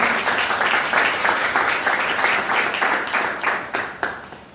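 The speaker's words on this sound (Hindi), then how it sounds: "मैं चाहूंगा कि परमेश्वर के लिए आप जोर से ताली बजाएं।" A church congregation clapping loudly in praise of God, many hands beating in a fairly rhythmic, pulsing pattern with a few cheers, sustained for several seconds and easing slightly toward the end.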